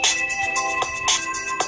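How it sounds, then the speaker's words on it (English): Default Android phone ringtone plays loud and close, a bright repeating melodic chime with steady pulses. "Default ringtone"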